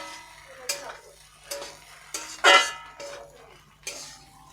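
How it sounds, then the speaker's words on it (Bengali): Bread snack with tomato sauce stirred in a pan, a spoon scraping and clinking at a steady pace, about five distinct strokes with a faint sizzle beneath, close and fairly clear with no talk. "তো এভাবে একটু নেড়ে চেড়ে এটা নামিয়ে নেব।"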